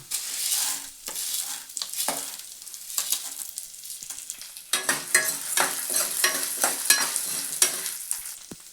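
Urad dal and chana dal fry in a pan for curry leaf powder, giving a steady close sizzle broken by repeated scraping stirs, with a louder run of rhythmic strokes in the second half.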